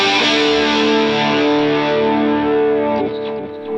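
Electric guitar played through a Vox Valvetronix VTX150 Pro amp with delay and chorus engaged, a sustained distorted chord ringing loud and shimmering, with echoing repeats and a second strum as it fades.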